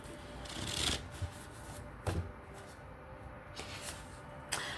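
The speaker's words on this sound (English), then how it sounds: "Let's do a quick shuffle. We're going to be working with the cards." A deck of reading cards being shuffled close by, with quiet riffles and soft slaps in a few separate bursts at low level.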